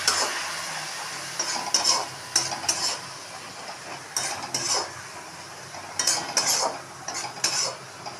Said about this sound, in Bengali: জল দিয়ে ভালো করে মশলাটাকে কষে নেব